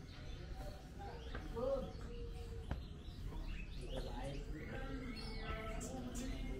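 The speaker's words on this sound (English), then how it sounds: "More birds here." Birds chirping from cages at a busy Indonesian animal market, scattered short tweets and calls over constant crowd noise and people talking nearby.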